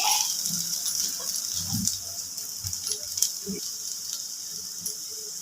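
Chicken 65 being tossed with sauces in a hot pan, a steady sizzle with scattered light clinks and scrapes of a spoon against metal, close and continuous.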